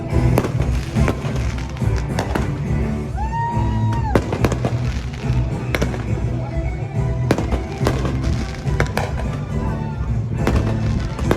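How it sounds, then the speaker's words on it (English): Fireworks over the sea heard from inside a cruise ship cabin, a run of deep booming thuds and sharp cracks repeating in irregular bursts, with a brief whistling rise partway through over a steady low rumble. "Do the fireworks, dude."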